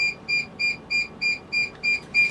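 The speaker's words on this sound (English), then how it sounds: "it's something that's beeping in this studio" In a radio studio, a small device emits a steady series of about eight short, evenly spaced electronic beeps, moderately loud over a quiet room hum.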